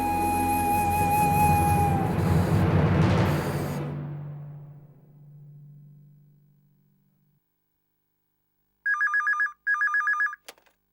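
A telephone rings in two short, bright trilling bursts near the end, loud and clear against silence, after earlier music and background sound fade away.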